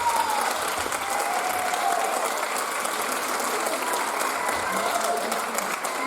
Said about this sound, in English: let's give one more applause.